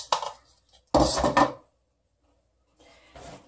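A plastic color bowl for hair dye is picked up and set down, giving short hollow clatters in three separate bursts with quiet gaps between, close and fairly soft.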